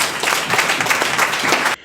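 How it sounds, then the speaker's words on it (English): An audience applauds retiring teacher awardees at a ceremony, a dense burst of clapping from many hands that lasts under two seconds before cutting off abruptly. "please give a round of applause to the awardees"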